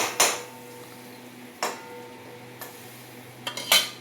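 Metal pots and utensils clink and clatter in a home kitchen during cooking of onion-free, garlic-free dal tadka: a few separate sharp knocks spaced across the moment, the last ones a quick double clatter, close and fairly loud.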